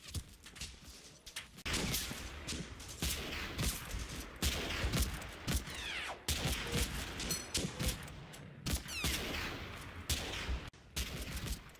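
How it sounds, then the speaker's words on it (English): Suppressive gunfire pours onto buildings in the wartime Italy strategy game Combat Mission Fortress Italy, with dense overlapping volleys of rifle and machine-gun shots cracking in irregular bursts and bouncing echoes across the whole stretch. "suppressive fire is increased on the foremost buildings on KT-1"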